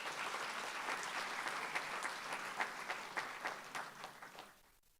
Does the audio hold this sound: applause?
yes